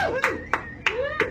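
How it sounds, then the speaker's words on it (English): Four sparse, separate hand claps from a few audience members at a comedy podcast show, spaced evenly and standing out over ongoing talk. "3 people clapped"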